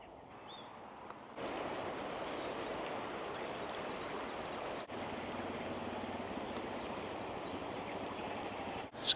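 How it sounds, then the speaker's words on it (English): A full river flows beneath a bridge near Brougham Castle, a steady broadband rush of moving water that swells in after a quieter start and holds evenly, with no voices. "There's quite a bit of water in the river."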